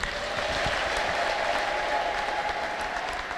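A church congregation cheers and ululates loudly in a dense, continuous wave of clapping and voices, with a high trilling tone running steadily through the whole stretch.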